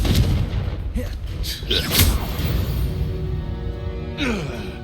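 A booming Confringo blasting-spell explosion from the video game Hogwarts Legacy, a loud, sustained blast with rumbling tail over dense game background noise.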